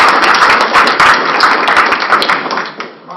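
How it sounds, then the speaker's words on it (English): Applause from a lecture audience greeting an evolutionary biology speaker, a dense, steady patter of many hands held for about three seconds before tapering off at the end. "Please give a round of applause for Dr."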